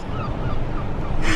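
Seagulls squawking and honking in a seaside village while chasing people for fish and chips, loud calls rising over a busy outdoor wash, with a sharper burst near the end.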